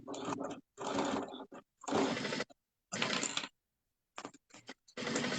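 A sewing machine stitches a quarter inch around the edge of a small moto bag, running in short whirring bursts that stop and restart, close and fairly loud, with no talk.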